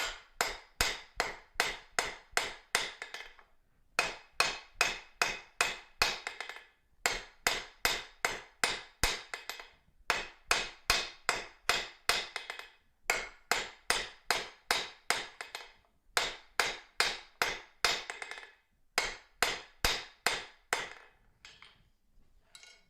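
Blacksmith hammering a serving spoon on an anvil, working its tail, with loud, sharp metallic strikes in quick rhythmic bursts of about a dozen blows, separated by short pauses.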